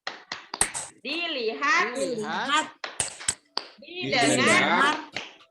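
A group at a teachers' in-house training session performs a clapping chant, with sharp bursts of hand claps alternating with loud chanted voices in a quick rhythm.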